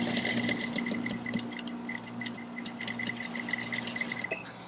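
An industrial sewing machine stitches a corset, running steadily with a fast, even mechanical whir and rapid needle ticks, close and continuous with no talking.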